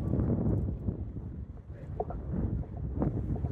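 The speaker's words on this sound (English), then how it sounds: "This wind is going to make things very difficult." Strong wind blowing across a rocky Anglesey shoreline during rock fishing, a steady loud roar buffeting the microphone with gusty surges throughout and no talking.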